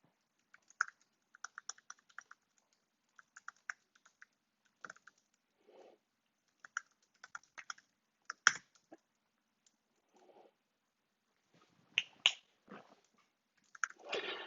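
Computer keyboard typing in short irregular bursts of clicks separated by pauses, close and quiet, with no one speaking, as form fields are filled in.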